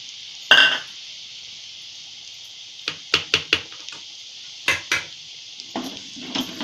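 Red chili spice powder hits hot oil in a pan while matar paneer is being cooked, producing a bright, sustained sizzle up close, with a cluster of sharp spoon clinks and taps against the pan.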